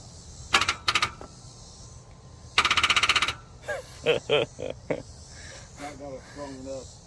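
A Ford Mustang GT engine, sitting unused for years and temporarily hot-wired, is cranked but fails to start: two short starter bursts, then a longer rapid churning crank, followed by a voice talking.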